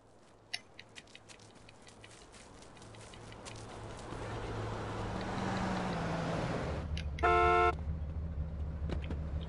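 Car horn in GTA: San Andreas on PS4 giving one steady, fairly loud honk of under a second, late in the clip, over a rising engine and traffic drone.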